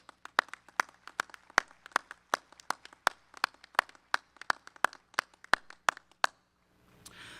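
Crisp, distinct hand claps from a small group at a university spring graduation ceremony, evenly spaced and fairly quiet in a large room, ending with a faint rustle.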